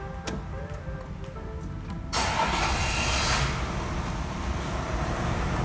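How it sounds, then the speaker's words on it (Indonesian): A modified and restored Toyota Land Cruiser VX100 starts up close by: a few seconds of starter cranking, then the engine catches and settles into a loud, steady idle. "Kita nyalain dulu untuk mobilnya."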